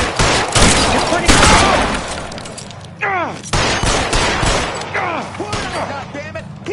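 Gunfire in the LA Noire video game: bursts of loud, close shots with echoing tails, repeated over several seconds, while voices shout in between.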